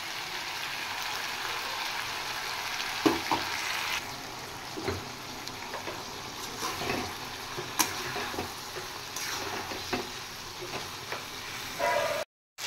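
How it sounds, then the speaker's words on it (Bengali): Chopped vegetables are sautéed in a pan with cumin and chili paste, producing a continuous moderate sizzle. Occasional spatula taps and scrapes punctuate the frying throughout, and it cuts off abruptly at the end. "এবার দেব জিরে আর লঙ্কা পেস্ট"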